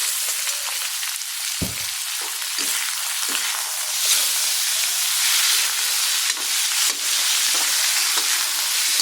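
Pork belly for adobo frying in a pan outdoors, a loud, steady sizzle and hiss that runs throughout, with one sharp clatter early on and occasional spits.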